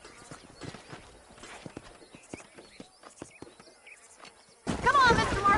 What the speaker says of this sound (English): We can really do with those horses.